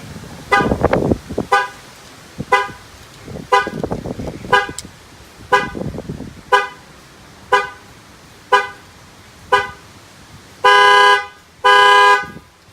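The shock-sensor alarm on a 2018 GMC Sierra Denali pickup blares nearby in a repeating cycle of loud chirps and honks, ending with two long sustained blasts, no voices.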